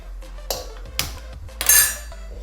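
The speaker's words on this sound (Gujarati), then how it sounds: "મોટી સાઈઝની તપેલી લીધી છે મેં અને ગેસ ઓન કરીશું આપણે" Large cooking pot set down on a gas stove, several metallic clanks and clinks of steel vessels spaced over a couple of seconds, with a brighter ringing clatter near the end.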